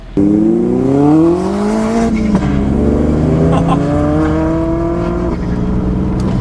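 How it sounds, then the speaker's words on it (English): A car engine, from a BMW E36 M3 or a turbocharged VW Golf 1.8T, revs up and down in rising and falling pitch sweeps, loud and close, with no talking. "Give me some revs!"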